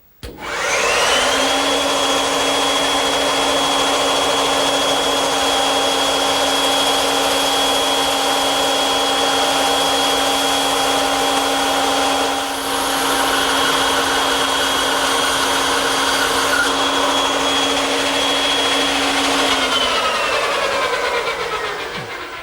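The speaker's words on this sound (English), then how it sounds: "I'm going to cut it over here on the bandsaw, which I've equipped with a 1/4 inch wide blade" Bandsaw fitted with a 1/4 inch blade cutting tight radius corners in wood, a loud, close, continuous motor hum and blade whine lasting about twenty seconds before spinning down.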